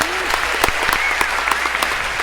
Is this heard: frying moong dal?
no